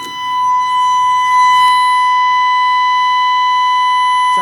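A building emergency system sounds its all-clear signal, a steady, loud, unbroken electronic tone held for several seconds, alone with no talking.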